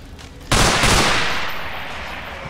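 A sudden burst of gunfire from the video game Underhell erupts loud and close, then rolls on as a dense, sustained volley that slowly fades.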